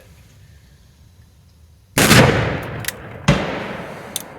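Two loud, close gunshots from an Uberti 1847 Colt Walker revolver, each a sharp crack followed by a ringing tail, spaced about a second apart, with a couple of faint clicks between.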